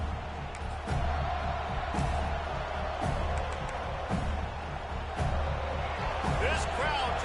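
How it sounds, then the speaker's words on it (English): Stadium crowd roar in the Madden 26 football video game, a steady loud dense wash of cheering and noise with periodic swells, sustained throughout under faint commentary-like voices. "This crowd trying to show them what it's going to be like all day in this house."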